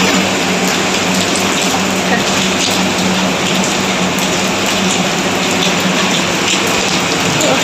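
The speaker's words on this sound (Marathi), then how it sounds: "बघा किती मस्त पाऊस सुरू आहे" Heavy monsoon rain pours steadily and loudly, a dense continuous hiss of drops drumming on surfaces with no pauses throughout.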